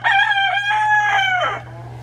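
A chicken out of the coop crows once, loud and close, a single drawn-out call that fades at the end over a faint background hum.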